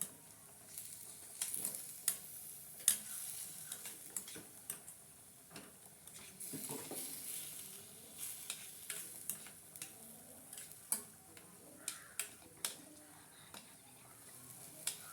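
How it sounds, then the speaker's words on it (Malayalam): Soft, steady sizzling of food with turmeric powder in a pan, with irregular scraping and tapping from stirring, faint and continuous throughout. "മിക്സ് ചെയ്തെടുക്കാം."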